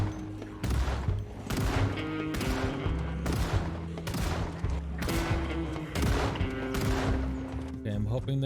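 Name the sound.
gunshots, from video game Project Zomboid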